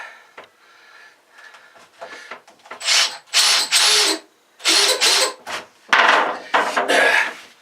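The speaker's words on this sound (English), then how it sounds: "I'm going to drill a single one here in what I think is the middle." A drill bores a hole into boat settee wood, with several short bursts of whirring and grinding separated by pauses, close and fairly loud, preceded by quieter handling noises.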